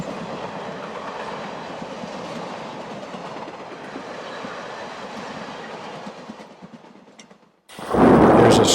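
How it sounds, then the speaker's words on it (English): An O gauge model GG1 electric train races along the eastbound track of a busy main line on a layout, a steady clickety-clack rumble with no voices, ending in a sudden loud burst of noise. "this GG1 races through town on the eastbound track"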